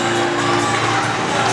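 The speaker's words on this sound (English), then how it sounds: "Some of them standing, some of them clapping." Speedway crowd at a Poole Pirates championship meeting cheering, whooping and clapping, a dense, loud, continuous roar of voices and applause.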